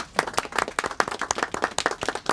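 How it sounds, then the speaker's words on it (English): A small group claps for a woman at a steampunk gathering, the individual hand claps distinct and uneven, fairly close, with no talking over them. "Let's give this lady a round of applause."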